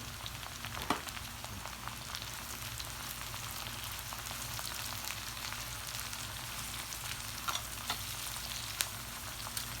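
Julienned onions fry in a pan with a steady, close sizzle and crackle, broken now and then by faint stirring clicks.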